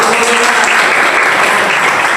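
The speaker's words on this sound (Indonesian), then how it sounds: "Tepuk tangan." Students in a classroom applaud, a dense, steady wash of clapping that is loud and close for the full short stretch, with no clear speech.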